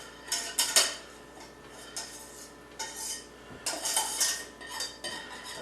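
Utensil stirring cheese sauce into cooked macaroni in a metal pot, with scraping and clinking strokes in irregular bursts, close and moderately loud, no talking.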